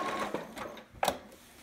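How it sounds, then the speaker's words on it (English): A sewing machine backstitches and stitches forward through fabric, giving a close, rapid mechanical whirring with short bursts and pauses and a sharp clack partway through, and no talking. "When I get about to the pin, I'm going to take it out, and then I'm going to backstitch and forward stitch again."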